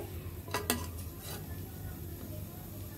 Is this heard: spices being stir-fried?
yes